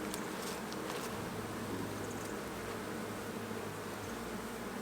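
A honey bee colony hums with a dense, continuous buzz during an April hive inspection in Minnesota, heard up close with a few faint clicks and handling noises and no talking.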